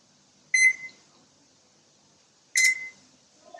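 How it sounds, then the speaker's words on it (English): An oven beeps twice while being set to preheat, two short, bright electronic tones about two seconds apart in an otherwise quiet room. "Now we preheat the oven to 350."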